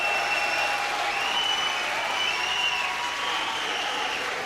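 Boxing fans in an arena cheer and applaud Martin Power during his fight with Ian Napa, a steady, dense wash of clapping and crowd noise lasting the whole stretch.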